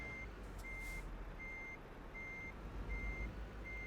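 Truck reversing alarm in Euro Truck Simulator 2, a steady series of evenly spaced beeps, about five in under four seconds, over a low engine idle with no talking.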